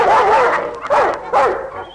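A startled family dog gives three yelping, whining barks in quick succession, loud and close, each rising and falling in pitch.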